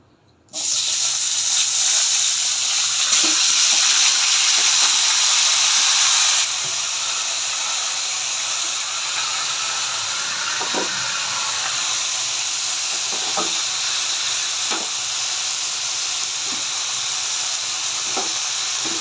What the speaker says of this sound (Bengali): এখন এই তেলে আমি কপিগুলো ভেজে নেব